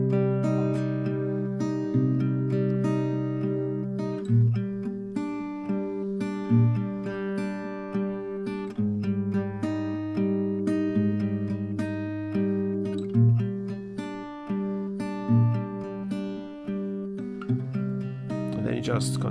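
A guitar plays a melody at a slowed tempo, with clear plucked notes and steady chords ringing out alone, close and moderately loud.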